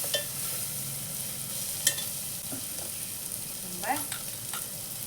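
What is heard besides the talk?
vegetables being stirred and fried for sambar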